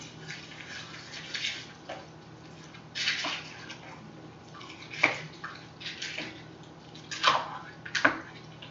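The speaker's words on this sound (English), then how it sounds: "take my spoon and stir this in to the pot." A spoon stirs beef stew in a crock pot, giving wet, sloshing liquid swishes and scrapes in irregular bursts, close and fairly quiet, with no one talking.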